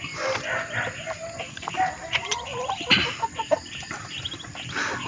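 Chickens, including large roosters, cluck and call in a busy, uneven chorus, with a few louder sharp notes standing out over a rough outdoor background.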